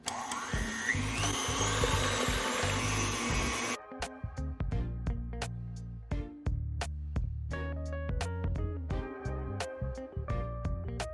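Electric blender whirring through banana pudding with a few drops of vanilla flavoring added, a steady loud motor drone for several seconds that cuts off, followed by a series of sharp clinks and taps.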